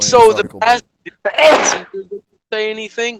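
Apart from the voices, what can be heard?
sneeze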